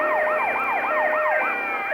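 Police siren from the mobile version of GTA Vice City wails in fast, repeating up-and-down sweeps, loud and close, running steadily through the whole short stretch with no talking over it.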